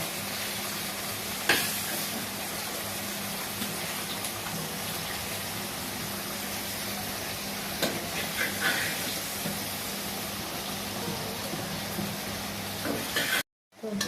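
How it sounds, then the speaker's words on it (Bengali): Fried koi fish, with tomato, being stirred into spice paste in a pan over a stove, giving a steady close hiss of sizzling with a few scraping knocks from stirring over about fourteen seconds, no one talking. "এখন আমি দেখেন এক করে সবগুলো কই মাছ এই মশলার ভিতরে দিয়ে দিব"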